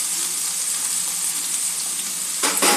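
Spiny gourd (kantola) frying in a pan, a steady close hiss of sizzling oil throughout, with a brief brighter burst of crackle near the end.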